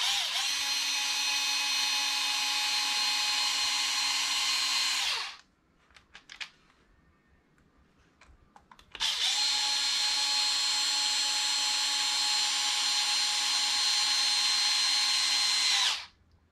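A power drill tightens screws on a Traxxas Maxx 4S RC car, running in two long steady whining bursts of about five and seven seconds, separated by a quiet gap with faint clicks and handling noises.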